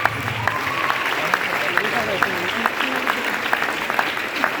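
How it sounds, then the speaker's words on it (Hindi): A crowd gives a loud round of clapping as senior guests make their entrance at an event, a sustained wash of hands with scattered sharper claps, mixed with voices and a tonal background running underneath. "एक बार जोरदार ताली होनी चाहिए, सर की एंट्री होनी चाहिए, जोरदार ताली होनी चाहिए।"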